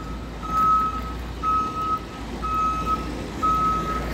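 A truck's reversing alarm sounds four evenly spaced beeps, about one per second, over a low engine rumble on a town street, moderately near.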